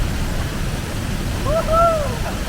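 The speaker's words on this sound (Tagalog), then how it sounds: "Waterfall." Klong Chau waterfall on Koh Kood, Thailand, in monsoon season gives a steady, broadband rushing wash of falling water, with a brief whistle-like tone rising over it near the end.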